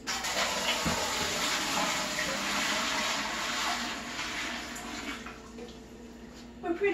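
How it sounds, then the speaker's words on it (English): Water running from a tap into an All-American pressure canner, a steady hissing rush that gradually eases and fades, ending with a few clinks near the close. "Let's get our 3 inches of water into the canner first"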